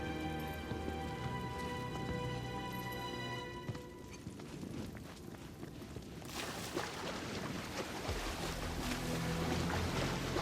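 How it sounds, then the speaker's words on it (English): Small waterfalls in the video game Final Fantasy VII Rebirth, a steady wash of splashing water noise that fills the whole clip, with game music tones fading out partway and no speech. "I'm surprised these little waterfalls don't like go off the edge and fall forever."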